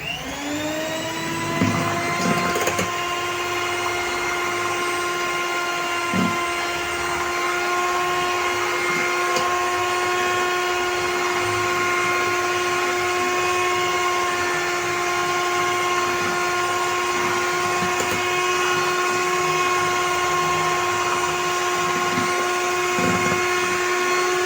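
An electric whisk beats sunflower oil and milk for a truffle cake batter, holding a steady high-pitched motor whine at close range throughout, with a few light knocks against the bowl.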